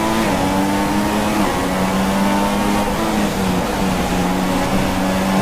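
A Formula 1 race car in F1 2016 roars at high revs, its engine note climbing steadily with quick drops and rises in pitch as it shifts up through the gears, loud, close and continuous with no talk.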